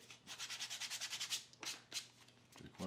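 Close, steady sanding of leather edges with fast back-and-forth rubbing strokes, then a few slower, separate scrapes at the end.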